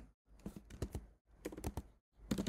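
Close, fast clatter of a computer keyboard as code is typed, bursts of rapid keystrokes separated by short pauses.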